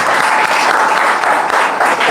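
A reunion audience gives a round of applause for Henry Volney, dense close clapping filling the whole short stretch at a strong level.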